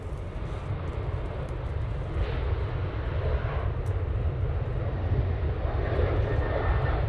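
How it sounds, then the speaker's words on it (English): A Ryanair jet takes off from Manchester Airport, its engine roar a steady, loud broadband rumble that holds and slowly swells across the whole stretch, with no voices over it. "first Ryanair of the day there going."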